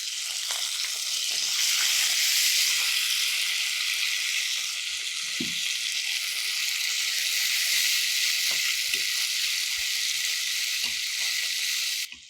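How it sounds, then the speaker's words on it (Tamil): Finely chopped sweet potato sizzles loudly and steadily in a hot pan for a festive rice dish cooked without onion or garlic, a continuous close frying hiss with occasional stirring scrapes. "இப்போ இந்த சர்க்கரை வள்ளிக்கிழங்கு இதில் சேர்த்துறேன்"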